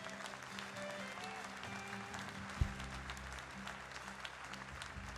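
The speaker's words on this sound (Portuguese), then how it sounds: "Você pode dar uma salva de palmas?" A large church youth congregation gives a round of applause, a faint, steady spread of clapping with a low hum and one sharp knock midway.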